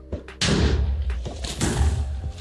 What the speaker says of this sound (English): the explosion actually knocks the blocks back, breaks them, kind of similar to real life instead of just deleting them